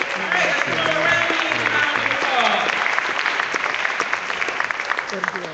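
An audience applauds a jazz quartet at the opening keynote of a 2015 summit in Chicago, with dense, steady clapping filling the whole stretch and voices mixed in.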